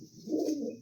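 A large long-bodied pigeon at a pigeon house giving one short, soft, low coo close by.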